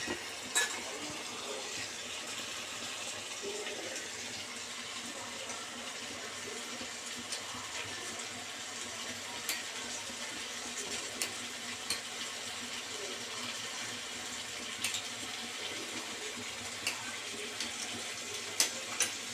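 Water runs steadily into a cooking pan of prawn and taro stolon curry to keep the bottom from burning, a soft continuous splashing hiss with occasional faint clinks, close and fairly quiet.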